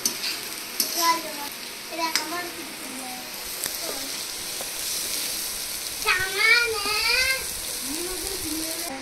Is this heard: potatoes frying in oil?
yes